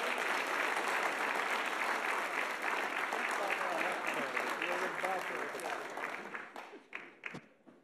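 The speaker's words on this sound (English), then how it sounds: "give him a nice round of applause" A sports awards ceremony audience at Cuesta College claps in warm, sustained applause that fades out into a few scattered final claps.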